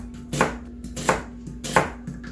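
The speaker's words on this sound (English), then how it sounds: "I'll finish chopping this onion a little later." A knife chops an onion on a cutting board in three crisp, evenly spaced strokes, each a close, sharp knock against the board over a faint steady hum.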